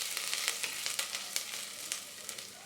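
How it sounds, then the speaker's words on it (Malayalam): Ginger and garlic sizzle and fry with spices in a hot pan for a beef coconut curry, a steady crackling hiss with small pops and stirring, close and continuous with no talk. "ഇഞ്ചിയും വെളുത്തുള്ളിയും ചേർത്ത് 2 മിനിറ്റ് നന്നായിട്ട് വഴറ്റി കൊടുക്കാം."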